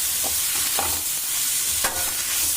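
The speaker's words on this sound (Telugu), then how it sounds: "ఈ బొక్కలు ఈ విధంగా ఉడికించుకోవాలి" Mutton bones cook in a pan with masala, giving a dense, steady sizzle and frying hiss, punctuated by a few scraping stirs of a utensil, close and fairly loud with no talk.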